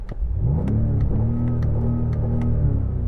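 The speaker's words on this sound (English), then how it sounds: "I'll tell you what, Daniel, that doesn't sound anywhere near as good as the F10 did." A BMW M5 engine revs hard and accelerates, a loud continuous near roar with rising and settling pitch sustained for about three seconds, with no voices over it.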